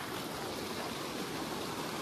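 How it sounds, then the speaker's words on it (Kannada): A river flows beside a cardamom plantation near Madikeri in Coorg, a steady broadband rush of water, even and unbroken, with no voices. "ಇದು ನೋಡ್ರಿ ಬಾಜು ನದಿ ಐತಿ"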